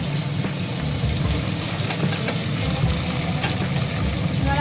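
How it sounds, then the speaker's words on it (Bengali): Sliced beans and carrots fry in a pan with dried red chillies, giving a steady, close crackling sizzle with occasional stirring scrapes throughout, no voices. "এবার আমি এটা ভালো করে ভাজবো।"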